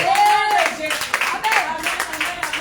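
A church congregation claps together in worship, a steady run of hand claps under a voice calling out over them.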